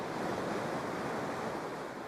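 Ocean waves wash onto a calm beach in a continuous, even surf roar, close and steady throughout with no voices.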